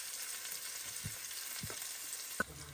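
Turmeric, cloves and garlic crackle in hot tempering oil for Maharashtrian kadhi, a steady close sizzle with a few soft stirring knocks and a sharp clink near the end.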